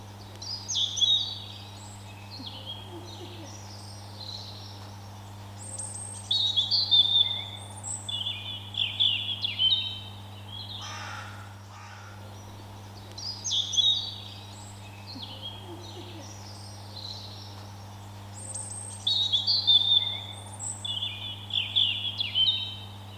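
Birdsong around Marker's Pond in Uffculme, repeated bursts of clear chirping phrases every few seconds over a steady low hum, fairly close and with no talking.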